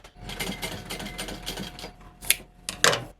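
Sewing machine running a top stitch along a leather backpack, a steady rapid mechanical chatter of needle strokes close by, broken near the end by a few sharp louder clacks.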